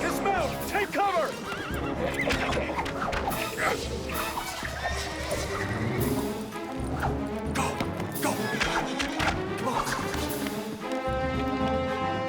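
Several horses neigh and whinny loudly while hooves clop and stamp as riders dismount, with shouting voices and crashing noises mixed in.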